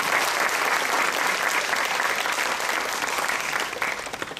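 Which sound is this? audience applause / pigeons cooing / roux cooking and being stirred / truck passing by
audience applause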